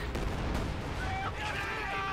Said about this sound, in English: Explosion went off there